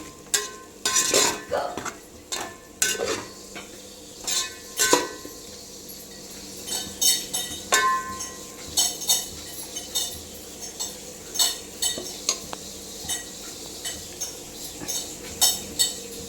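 A spoon stirs onions in a pan with garam masala, chili powder, coriander powder and salt for aloo dum biryani; repeated metallic scrapes and clinks come in irregular bursts over a faint sizzle.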